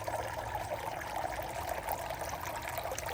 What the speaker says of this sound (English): Love the sound of water.